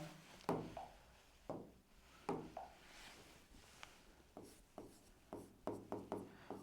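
Pen or chalk writing out a trigonometry math proof, a series of short scratchy strokes in irregular bursts, close and fairly quiet, with no voice.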